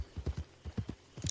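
Horse being ridden in Red Dead Online, hooves clip-clopping in a quick, uneven rhythm of about a dozen soft thuds, close and fairly quiet with no talk.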